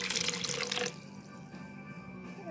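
Water poured out for cold process baby soap making, 190 grams measured: a short, bright splashing stream for about a second, then a quiet watery trickle and faint residual ringing.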